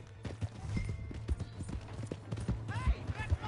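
Horse hooves clip-clop in a steady rhythm in a video game, with voices talking over them.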